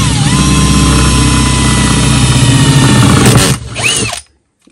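A Parkside HSS drill bit bores a hole in metal, a loud steady motor whine with grinding under it, then the drill spins down and stops, leaving silence.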